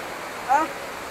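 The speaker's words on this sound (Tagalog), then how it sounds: "Yan yung falls." Waterfall at Majayjay, Laguna, heard as a continuous broadband rushing hiss of falling water, with a brief voice breaking through midway.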